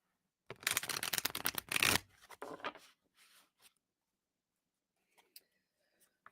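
A loud, close riffle shuffle of tarot cards followed by softer settling shuffles, then near silence with a few faint taps.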